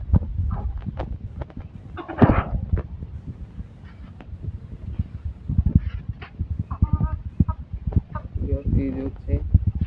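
A mother hen with five chicks clucks close by, with high, thin peeping from the chicks breaking out in short bursts through the second half over steady yard noise.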